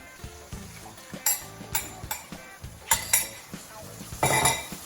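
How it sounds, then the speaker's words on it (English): Stock in a pot is stirred with a utensil, making repeated clinks and scrapes against the metal in an irregular rhythm, close and fairly loud, with faint background speech. "Give that a quick stir"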